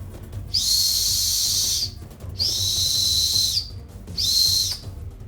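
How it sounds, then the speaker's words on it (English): Three shrill blasts from a plastic survival whistle, each about a second long with short pauses between, loud and close over a low background hum. "But I think we should try out the whistle and see how it sounds."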